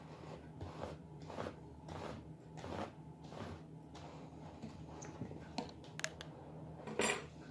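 A plastic lid being fitted and screwed onto a homemade aquarium CO2 bottle, giving a series of faint clicks and rubbing scrapes, with a few sharper taps near the end; no talking.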